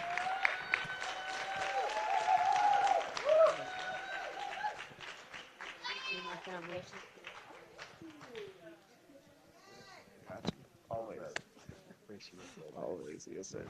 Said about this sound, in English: please give a warm round of applause for B. Hunter and Terayle Hill